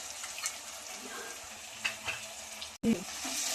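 Ginger garlic paste sizzles and fries steadily in a pan for capsicum rice, with a few soft stirring scrapes, a brief dropout near the end, then the frying resumes slightly louder.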